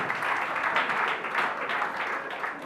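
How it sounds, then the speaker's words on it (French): Wedding guests at a civil-registry ceremony applaud the groom with a steady, dense wash of many hands clapping at once, sustained and fairly loud throughout. "Applaudissons très fort lui-même, il est là"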